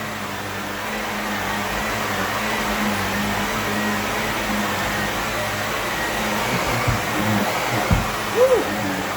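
A carpet-stripping machine runs with its rollers engaged, a loud, steady motor drone with a continuous broadband whir throughout and a few brief knocks near the end.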